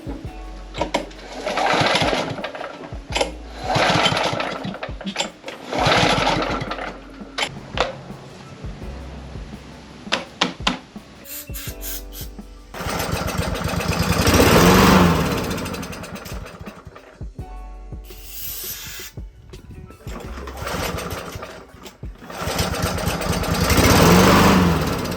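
A repaired lawn mower engine pull-started in bursts, its rhythmic mechanical putter cutting in and out before running steadily for longer stretches, loud and close with no talk.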